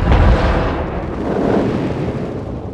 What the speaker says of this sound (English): When the terrorist bomb explodes,